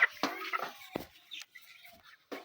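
Sick broiler chickens suffering in heat give a few short, scattered clucks and squawks close by, irregular and fairly faint, with brief quiet gaps between calls.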